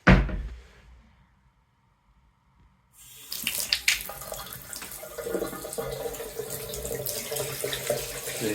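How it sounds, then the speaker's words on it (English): Water running and draining in a kitchen sink, starting after a brief knock and near-silent pause, then a steady close gurgling rush that continues to the end. "Drains all nicely."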